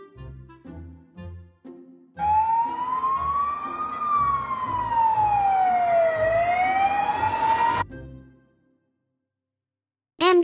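An ambulance siren sweeps slowly up and down for several seconds, loud and close, following choppy music and then cutting to silence.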